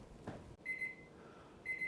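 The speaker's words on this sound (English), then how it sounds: "Okay, our chef alarm timer is sounded." A chef alarm timer beeps in a kitchen while a turkey roasts in the oven: two short paired electronic beeps, a pause, then another pair, crisp and moderately loud after a brief thump.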